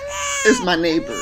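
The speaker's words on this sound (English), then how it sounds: "So if you hear children crying in stereo" Newborn babies next door cry through the wall in a thin, wavering wail beneath a person talking nearby, the crying rising and falling over a moment.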